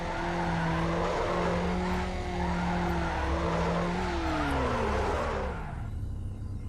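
A Mazda Miata drifting with the e-brake in Need for Speed Underground: a loud, sustained tire squeal over a revving engine that sweeps in pitch, then fades toward the end of the slide.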